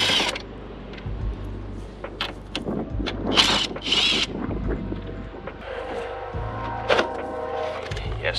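A hand wrench works 10 mm headlight bolts loose on a Hyundai Genesis Coupe 3.8 with the front bumper off, giving intermittent close ratcheting clicks and metallic turns amid mechanical rattles and light wind noise.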